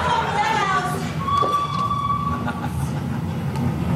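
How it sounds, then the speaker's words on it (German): Theatre sound effect of a train pulling into a station, a continuous low rumble with a drawn-out squeal of wheels or brakes, no talk over it. "Das ist der Zug aus Minger, der gerade bei uns im Bahnhof einfährt."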